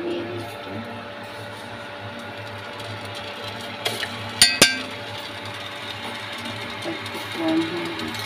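A metal spoon clinks sharply against a cup a few times in quick succession while tea leaves and sugar go into red tea, against a steady mechanical hum and faint background noise.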